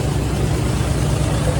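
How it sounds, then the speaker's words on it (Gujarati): A tractor engine runs steadily close by with a deep, throbbing low rumble and a constant rhythmic pulse, loud and unbroken throughout with no voices. "આખું ટ્રેક્ટર હલે છે."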